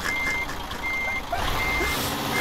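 A truck reversing in Euro Truck Simulator 2 sends out evenly spaced, high electronic beeps over a constant engine drone, close and loud, with no voices.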